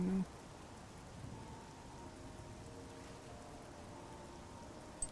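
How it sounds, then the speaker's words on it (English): Steady, even rain hiss in the video game The Elder Scrolls IV: Oblivion fills the scene, a constant wash of falling drops at moderate volume. "wonderful rain."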